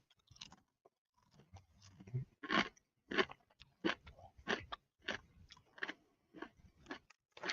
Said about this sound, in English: this shatter crunch would have an echo